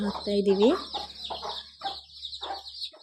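Village chickens clucking together near a house, a few close clucks early on, then intermittent softer calls and bird chatter over steady background noise.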